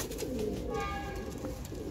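A pigeon coos in soft, repeated low calls at close range, faint and alone without any talk.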